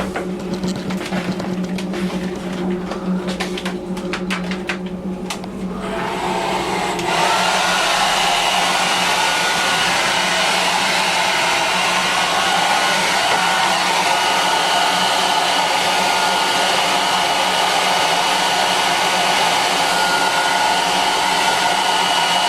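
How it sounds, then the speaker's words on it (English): A hair dryer blows steadily on a darkroom print, a loud continuous whooshing roar that swells stronger partway through and holds close and unbroken. "Let's try with hair dryer."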